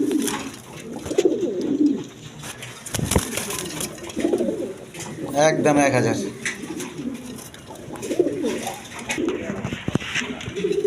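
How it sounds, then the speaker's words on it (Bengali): Iranian pigeons coo softly in short repeated bursts, with speech heard over them for much of the time. "এখানে এক পেয়ার আট এঞ্জেল কবুতর আছে ইরানি কবুতর দেখেন"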